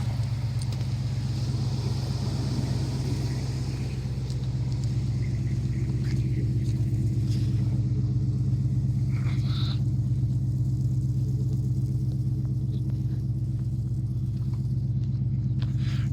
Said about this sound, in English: Ooh, that exhaust sounds good.